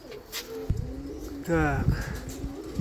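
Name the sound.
pigeons cooing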